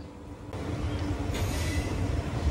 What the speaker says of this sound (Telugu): ఆ ట్రైన్ వెళ్ళాక బెల్లంపల్లి నుంచి మనం అయితే బయలుదేరాం